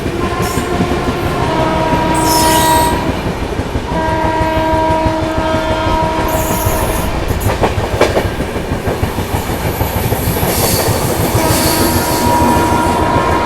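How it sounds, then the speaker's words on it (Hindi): The Bihar Sampark Kranti passenger train, hauled by a WAP4 electric locomotive, rolls past near Tilak Bridge with loud continuous rail rumble, rhythmic clickety-clack and brief squealing wheel tones, close by throughout. "तिलक ब्रिज को देखो यहाँ पे अपनी बिहार संपर्क क्रांति ट्रेस आउट कर रही है"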